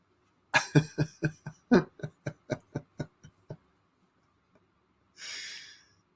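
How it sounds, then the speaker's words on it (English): A rapid burst of about a dozen sharp coughs that gradually weaken, then a pause and one long breathy exhale. "I started to have a coughing fit there"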